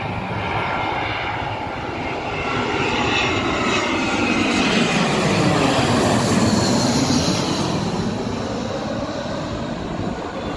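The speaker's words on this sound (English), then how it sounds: "Jetstar Airbus" A Jetstar Airbus A320-232 roars loudly and continuously at night, its engine noise swelling and sweeping in pitch as the jet passes close by.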